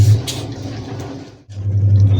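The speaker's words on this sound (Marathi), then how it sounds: "आवाज थोडा इग्नोर करा वॉशिंग मशीन लावलेलं आहे" A washing machine fills with water in a home: a steady, fairly loud rush and hum that dips briefly, then swells back strong. No one speaks.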